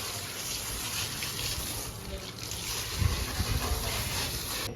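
Water splashed over a cow during washing, a steady broadband wash of pouring and spattering with a few heavier splashes near the end, close by and without talk.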